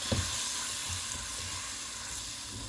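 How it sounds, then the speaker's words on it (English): Half a stick of butter melts in a pot, giving a steady, close sizzle with soft crackling and bubbling that holds evenly throughout, with no talking. "we got a half a stick of butter in and starting to melt"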